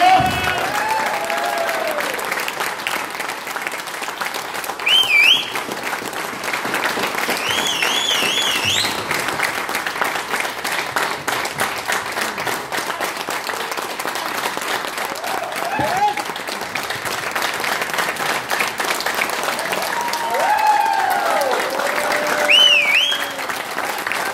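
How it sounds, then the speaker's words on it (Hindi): Loud, continuous applause from a large crowd at a business achievers' event, sustained for a long stretch with whistle-like tones and scattered cheering rising above the dense clapping. "प्लीज वेलकम अंदर से जोरदार तालियां"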